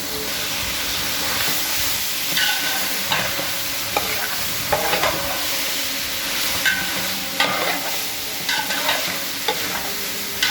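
Vegetables are stirred into reduced sauce in a hot pan for Cantonese fried rice, with a steady loud sizzle and hiss and irregular scraping clacks of the utensil against the pan throughout.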